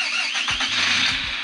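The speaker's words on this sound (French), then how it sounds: "notre moteur repart" An electric motor on a Tamiya MFC-03 RC car spins back up in a short burst, a high whirring squeal over low pulsing clicks, close and fairly loud.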